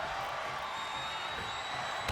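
A wrestling audience sends up a continuous, loud roar of cheering that fills the whole brief moment, with no pauses.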